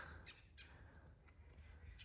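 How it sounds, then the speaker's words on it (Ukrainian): Faint chirps and short squawking bird calls come and go over a low, steady outdoor rumble on a cool morning. "Пташечки співають."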